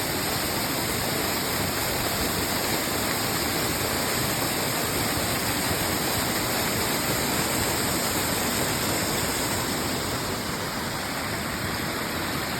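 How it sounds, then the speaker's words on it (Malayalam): A waterfall in Ireland roars steadily throughout, a dense, unbroken rush of falling water that stays loud and close with no pauses or voices. "നമ്മൾ ഇവിടുത്തെ ഏറ്റവും മനോഹരമായ ഒരു വെള്ളച്ചാട്ടത്തിന് മുന്നിലാണ് ഇപ്പോൾ നിൽക്കുന്നത്"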